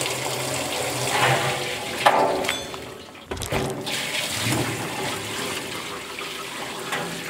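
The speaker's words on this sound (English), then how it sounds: "First, we need to get this halfway filled up with water." Running water pours into a chicken scalder as it fills, a steady rushing splash with a brief interruption midway before the flow resumes, close and fairly loud with no talking.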